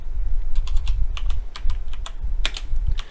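Someone types a command on a computer keyboard, with a quick, uneven burst of crisp key clicks, close and clear, and no talking.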